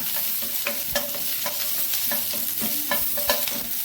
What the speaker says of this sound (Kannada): ಒಂದು ಟೊಮ್ಯಾಟೊ, ಇದನ್ನು ಸ್ವಲ್ಪ ಹುರಿದುಕೊಳ್ಳೋಣ.